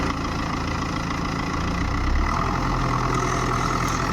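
A tractor engine labors under heavy load while ploughing through tree stumps and roots, a steady loud mechanical drone that deepens and strains midway as the wheels slip and the machine fails to pull.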